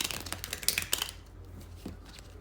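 A tarot card deck shuffled by hand, a quick riffle of dense papery flutters and snaps for about a second that then trails off into faint card taps over a steady low hum.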